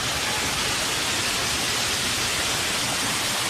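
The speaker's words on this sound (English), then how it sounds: "Oh yeah, we got the waterfall too." A zoo waterfall beside a rope bridge roars as a dense, unbroken rush of falling water, loud and close, with no other sounds standing out.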